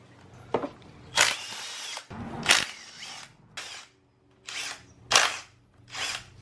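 A small pneumatic impact gun zips bolts off a motorcycle subframe cover in a workshop, sounding in about six short, loud bursts separated by brief pauses.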